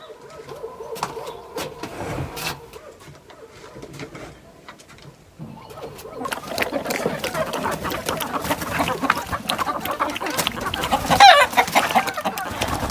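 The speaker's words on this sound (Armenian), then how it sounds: "բերել եմ հավերի մոտ, որ հավերս էլ իրանց սովորեն" Chickens cluck and call in a rural yard, a steady scatter of fowl sounds close by, with a busier stretch of clucking in the second half and a louder squawk near the end, no voices.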